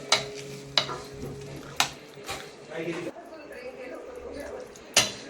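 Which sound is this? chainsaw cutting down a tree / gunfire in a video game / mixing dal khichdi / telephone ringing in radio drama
mixing dal khichdi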